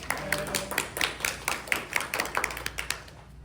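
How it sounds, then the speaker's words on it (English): A small audience at a historical society meeting claps for a trivia night host coming up to speak, with individual hand claps distinct and fairly quiet, falling into a loose, uneven rhythm that fades out by the end. "Give her a round of applause."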